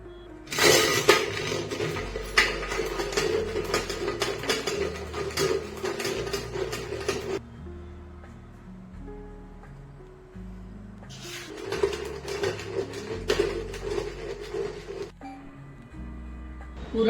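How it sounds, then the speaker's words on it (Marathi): Hot cooked puran is cranked through a hand puran grinder fitted with a fine mesh, giving two long bursts of rough metallic grinding and scraping, close and steady, separated by a quieter pause with soft clunks. "पुरण यंत्रातनं वाटून घेते. त्याकरता मी ही बारीक जाळी घेतलीये बघा"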